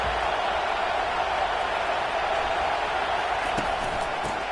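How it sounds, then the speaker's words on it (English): A stadium crowd at a Miami vs Notre Dame college football game roars in a steady, distant wash of cheering and noise that holds constant throughout, with a commentator's voice faintly over it. "How about this crowd rattling the rafters and trying to help their defense?"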